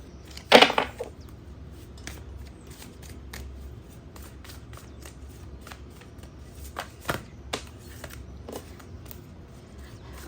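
Tarot cards being shuffled by hand, a loud riffle burst at the start followed by scattered soft slaps and flicks as cards slip out, close and intermittent with no speech.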